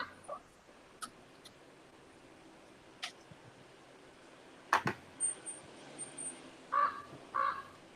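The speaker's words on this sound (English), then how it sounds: "So that sound could only mean that there is a raven from Castle Black and signaling our Maester, Jeff, joining the show." A raven caws a few times near the end, short harsh calls in a quick pair after a handful of scattered clicks and taps over a quiet, faint background.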